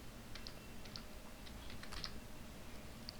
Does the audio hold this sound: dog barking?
no